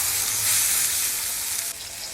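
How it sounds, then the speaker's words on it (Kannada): Tomatoes fry on a low flame for a tomato palak curry, a steady close sizzle with a soft bubbling hiss and a brief dip partway through. "ಟೊಮ್ಯಾಟೊ ಹಾಕಿ ಇದನ್ನು ಕೂಡ ಫ್ರೈ ಮಾಡಬೇಕು. ನೀಟಾಗಿ ಲೋ ಫ್ಲೇಮ್ ಇಟ್ಕೊಂಡು ಫ್ರೈ ಮಾಡಿ."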